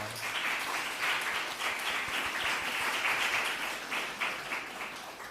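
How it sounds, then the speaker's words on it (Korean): A church congregation applauds during a Sunday service to welcome one another, a soft, steady wash of clapping hands heard from some distance for about five seconds. "우리 옆에 있는 분들 박수로 환영하겠습니다."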